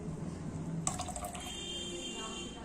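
Water is poured from one beaker into another, leaving sand sediment behind, a soft splashing trickle that starts partway through with a faint ringing of glass, near and gentle.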